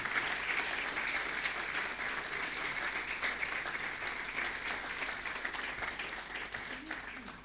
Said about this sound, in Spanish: Yo quiero que le des un aplauso a Él.